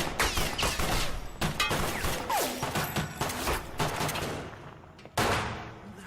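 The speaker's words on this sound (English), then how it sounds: "Who's shooting?" Rapid bursts of gunfire, with many shots fired in quick succession like a volley, loud and close, continuing throughout with brief pauses and no talk over it.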